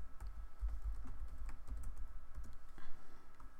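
Rapid typing on a computer keyboard during AutoCAD drafting, a steady run of close, crisp key clicks with no voices.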